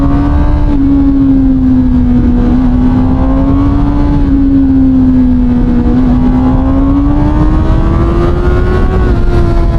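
CFMOTO 750SR-S motorcycle engine held at high revs around 9000 rpm, a loud, sustained, close-up drone whose pitch rises and dips gently as the throttle is held, with no talking over it.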